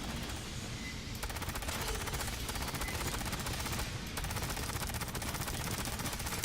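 A PP19-style SMG fires in Aliens: Fireteam Elite, sustained rapid automatic bursts that are loud and dense, with short gaps between long strings of shots.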